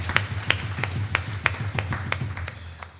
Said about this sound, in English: Give them all a wonderful round of applause, please.